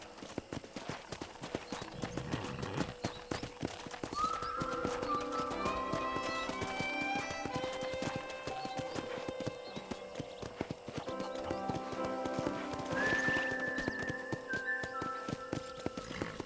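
A horse trots steadily along in Red Dead Redemption, its hooves clip-clopping in a continuous rhythm, with a couple of clear whinnies and faint background music.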